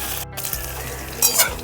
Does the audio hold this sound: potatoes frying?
yes